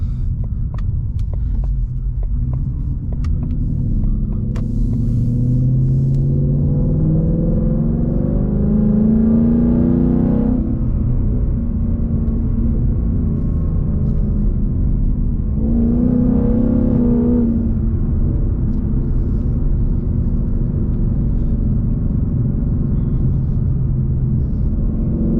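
A 2019 Mustang GT V8 with Corsa Extreme exhaust driving, heard from inside the car as a loud, constant rumbling drone that climbs through two revving pulls and then eases back.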